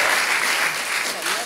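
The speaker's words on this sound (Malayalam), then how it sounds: "ഒന്ന് കൈയടിക്കൂ." A studio audience claps steadily for about a second and a half on a Malayalam televised dance reality show, a dense, even wash of applause at close range.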